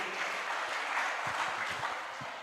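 An audience at a motivational seminar in Indonesia claps steadily for a couple of seconds, a dense even wash of applause with no voices over it.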